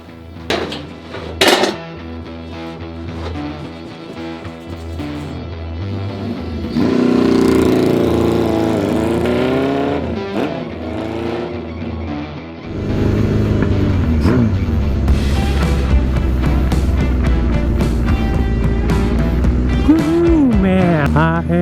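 An old school bobber motorcycle's engine runs loud and close on its first ride, its rumble swelling with revving sweeps partway through, then settling into a heavier, steady drone to the end.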